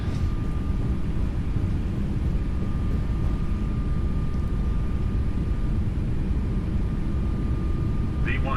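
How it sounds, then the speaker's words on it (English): Boeing 777-200ER takeoff roll in the Prepar3D flight simulator, a constant loud engine roar and rumble that holds steady throughout with a faint tone above it. "We are not going to abort the takeoff."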